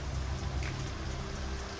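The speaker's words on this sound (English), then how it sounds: "It's pouring down rain." Heavy rain pouring down outdoors, a steady, dense wash of hiss and patter with a low rumble underneath, continuous throughout with no voices.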